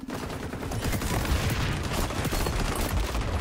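Rapid gunfire from an XDefiant firefight keeps up a dense, continuous rattle of overlapping shots for several seconds, loud and steady with no talking.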